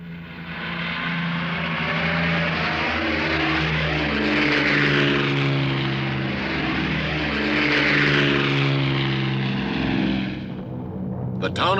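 Propeller aircraft droning overhead in WWII archival footage, a loud sustained roar that swells and fades as planes pass, with a narrator's voice over it.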